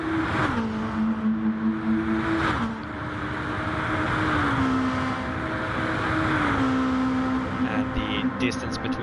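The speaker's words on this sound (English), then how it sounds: "Racer passes the camera, his tires are squealing." A race car at the Nurburgring 24 hour endurance race roars past at close range, its engine note stepping through gear changes as it goes by, with a commentator talking over the sound throughout.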